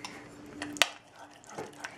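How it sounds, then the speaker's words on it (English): A spoon stirring mayo and pesto together in a bowl, producing a few soft scrapes and one sharp clink against the bowl, quiet and close. "you need, let's just mix it up, about 2 tablespoons of pesto. And you're gonna stir that up like so."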